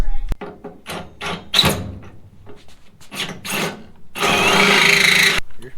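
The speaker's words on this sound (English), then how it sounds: "We're gonna try to attempt to drill that out." A hole saw nested inside another hole saw drills out an opening for a trailer plug, giving short, loud grinding bursts and then a longer sustained cut at close range, with speech in between.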